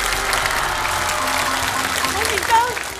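A television variety show studio audience applauds steadily after a gomoku board game round, the clapping continuous and fairly loud while voices talk over it.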